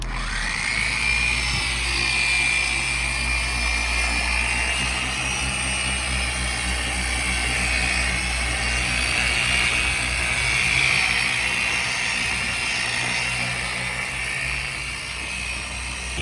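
A power buffer polishes the paint of a Lexus IS, a steady, close, high-pitched motor whine that holds evenly for the whole stretch with no talking.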